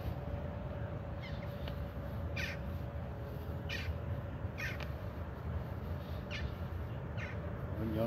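Crows caw several times at a distance as birds gather to feed. The calls come in short bursts over a steady outdoor hum, and a faint tone runs underneath.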